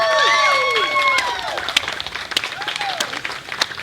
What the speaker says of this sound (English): I think we need to give one more round of applause to Mr.